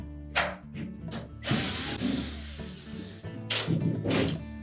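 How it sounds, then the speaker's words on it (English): Retaining screws coming out of the back panel of a Whirlpool washer, heard as a close power-driver whir with a few sharp clicks and metallic rattles between bursts, no talk. "our next step is to remove the two retaining screws"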